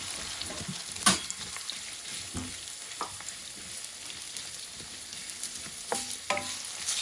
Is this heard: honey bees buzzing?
no